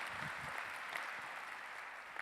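A conference audience at a front-end web development event claps in a continuous, fairly faint round of applause lasting a couple of seconds, with no voices over it.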